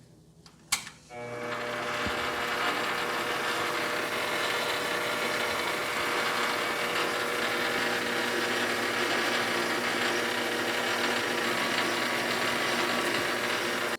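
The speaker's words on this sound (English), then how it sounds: "got the lathe cranked up to let's say 800 RPM, maybe 900, and we'll get a little cutting oil on there and get it done" A metal lathe spun to roughly 800–900 RPM drills a small hole in brass with cutting oil, a steady mechanical whir with a faint whine that starts after a brief clunk and runs evenly to the end.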